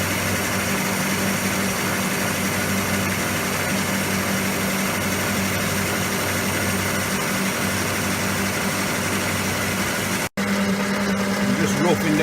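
A shaper machine cuts the threaded section of a machine vice with a loud, steady mechanical roar that runs throughout, broken by a brief dropout near the end.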